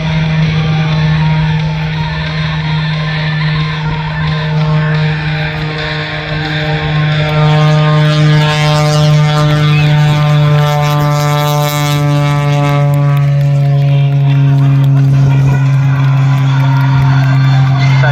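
A propeller aerobatic airplane at the Tocumwal Air Show opens its throttle, its engine drone holding loud and steady while harmonic tones rise and swell midway, with wind buffeting the microphone.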